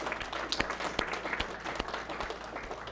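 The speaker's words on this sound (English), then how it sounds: "let's give them a round of applause because they've been brilliant" Audience applause at the final of a winter fishing match competition, a fairly distant, modest patter of scattered hand claps sustained for a few seconds without voices.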